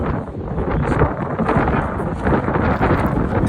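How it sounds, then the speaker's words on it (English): Heavy wind buffets the microphone of a rider on a moving motorcycle on an open road, producing a steady roaring rumble that fills the whole stretch with no pauses. "the wind was responding to my irritation towards it by blowing even harder, and I lost a lot of what I recorded in this clip"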